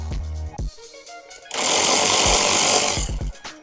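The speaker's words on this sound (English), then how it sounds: "remove all the bolts out of there to get to the air breather" A power tool runs in a loud, steady whir for about a second and a half while backing bolts out to reach the air breather on a 2024 Harley-Davidson Pan America, with short clunks and handling noises before and after.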